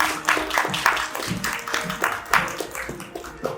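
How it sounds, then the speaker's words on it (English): An audience gives a round of applause for a featured speaker at an autism superhero awards presentation, moderate clapping in a hall that rises and falls in uneven bursts across the clip. "Let's give him a little encouragement with a nice round of applause."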